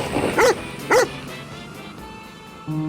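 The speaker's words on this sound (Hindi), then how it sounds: "उसे फिर से रोनी के भौंकने की आवाज सुनाई दी" A dog barks twice, two sharp close barks about half a second apart, followed by quieter background noise.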